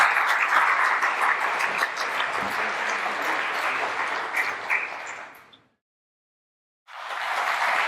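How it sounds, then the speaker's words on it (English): An audience at a political candidates' event claps loudly and steadily, the applause fading out, dropping to silence, then resuming abruptly near the end. "Okay, please keep the applause going for all the candidates up here."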